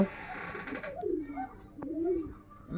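Pigeons coo in a loft, low soft rolling calls repeating close by with a brief sharp click partway through and no talking.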